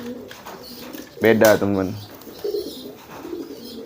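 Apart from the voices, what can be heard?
pigeons cooing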